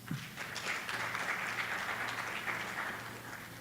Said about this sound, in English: let's give a hand of applause for these groups